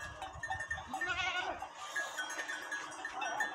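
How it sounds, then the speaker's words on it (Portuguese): A herd of goats on a dairy goat farm bleats repeatedly at a moderate distance over steady outdoor background noise, with several overlapping calls. "E o rebanho de bode tá aqui."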